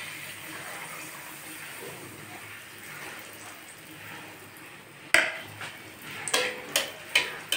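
Malpua pitha frying in oil gives a soft, steady bubbling that turns into sharp clinks and scrapes of a utensil against the pan in quick succession toward the end.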